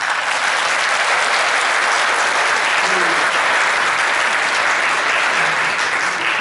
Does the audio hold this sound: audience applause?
yes